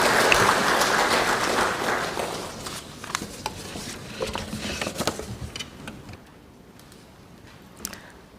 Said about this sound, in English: Another round of applause for our Vice Chair, Pan-Africa Movement-Rwanda chapter.